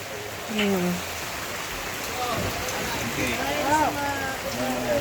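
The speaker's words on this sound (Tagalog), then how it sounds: "Kahit malakas ang ulan." Steady heavy rain pours down at night during a funeral wake in a continuous wash of noise, with voices and brief tonal sounds rising now and then over the downpour.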